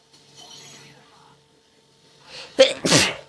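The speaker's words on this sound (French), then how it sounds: "Attendez, je vais éternuer encore." A single loud, close sneeze bursts out after a soft intake of breath and a faint quiet stretch.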